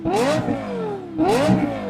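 Lexus LFA's 1LR-GUE V10, developed with Yamaha, revs hard twice, each blip a rising high-pitched wail that climbs sharply and falls away, loud and close with no voices.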